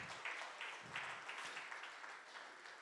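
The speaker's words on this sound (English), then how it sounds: "And a big round CSL of applause for you." Faint, distant audience applause at a live talk, a steady patter of many hands clapping for a few seconds with no voices over it.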